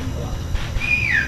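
A short whistled phrase inside the horror video game Backrooms: a single rising-then-falling whistle tone in the second half, over low rumbling game ambience.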